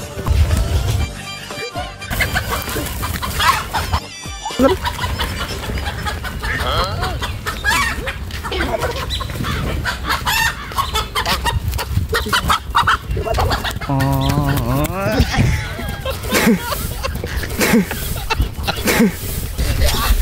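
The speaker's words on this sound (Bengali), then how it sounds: "এটা আমার মোরগ, একবার ধরতে পারলে ভুনা মোরগ" A rooster clucks loudly and repeatedly in a village yard, close and busy, mixed with people shouting and talking over the noise.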